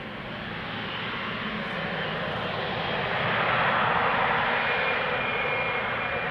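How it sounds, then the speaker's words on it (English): Aircraft engine roar at Schiphol Airport, a steady broadband rumble that swells gradually louder as the plane turns toward the listener, heard alone without voices. "Listen how the engine noise gets louder"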